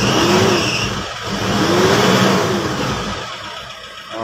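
An Isuzu Trooper's 4JX1 engine, suffering from fuel mixing into the oil and a faulty idle stepper motor, runs loud and close, its steady drone swelling and easing with a few light revs.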